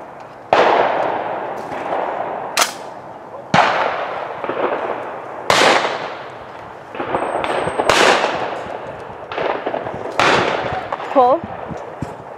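Shotgun blasts at a sporting clays range ring out about half a dozen times at irregular intervals, each a sharp loud crack with a decaying echo, while voices talk softly between shots.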